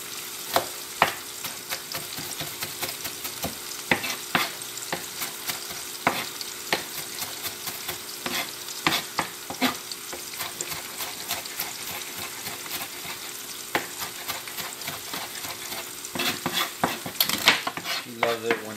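Eggs fry and get stirred in a pan, a continuous sizzle broken by frequent sharp scraping and tapping strokes of a utensil, up close, busier toward the end.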